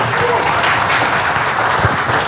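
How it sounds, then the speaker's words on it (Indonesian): Audience applause at an Indonesian presentation, a steady dense wash of clapping heard close and loud throughout. "tepuk tangan buat Anda semua sekalian ya"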